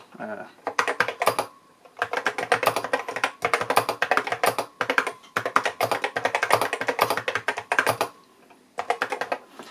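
Bursts of rapid typing on a vintage Macintosh Plus keyboard, crisp clacking keystrokes in quick runs with short pauses between, close and clear with no talking.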